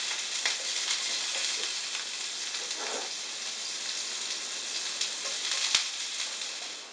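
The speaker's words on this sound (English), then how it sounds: "I'm going to go ahead and saute the onions first" Onions sautéing in olive oil in a pan, giving a steady soft sizzle and hiss with faint crackles and a single sharp tap, moderately quiet and continuous.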